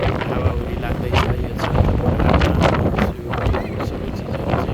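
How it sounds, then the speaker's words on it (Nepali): Strong storm wind gusting through Lisbon, a loud, rough roar of buffeting against the microphone with rising and falling gusts throughout. "हावाहुरी लाग्दैछ।"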